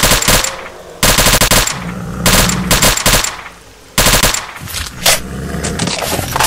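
Loud bursts of automatic gunfire in S.T.A.L.K.E.R. Call of Pripyat, several rapid rattling volleys separated by short pauses.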